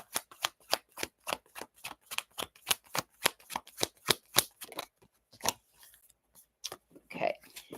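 A deck of tarot cards is riffled and shuffled in a steady run of crisp, close flutters, about twenty quick bursts that slow and thin out toward the end.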